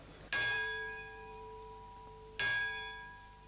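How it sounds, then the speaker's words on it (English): Two loud strikes of the large ceremonial Lutine bell at Lloyd's, about two seconds apart, each ringing out with a long, shimmering decay. "Lloyds celebrated the successful salvage by ringing the lutine bell"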